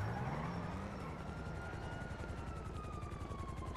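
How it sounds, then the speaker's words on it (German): A helicopter in a GTA roleplay video game passes overhead, its steady rotor chop and turbine whine loud and continuous, with a slowly falling pitch as it moves. "Ich glaube, der Heli verfolgt uns."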